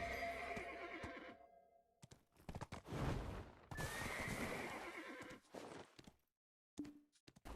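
Horse in the video game Black Desert whinnies loudly over a busy game soundscape, with clip-clop hooves and brief bursts of other game effects before a short silence near the end.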